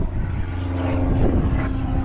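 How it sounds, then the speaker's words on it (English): An airplane passes overhead as a continuous broadband engine roar. It is loud and steady throughout the short stretch, with no speech. "I don't know what it is with planes always being in my videos."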